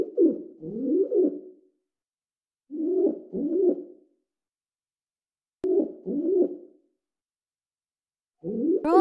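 A pigeon in the video game Anna's Quest coos in four separate bursts of soft, rolling, warbled calls, each about a second long and spaced by silences.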